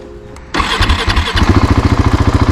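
A 2021 Husqvarna 701 supermoto fitted with a Husqvarna slip-on exhaust fires up after a brief quiet moment, catching with a loud burst and then settling into a close, steady, pulsing idle.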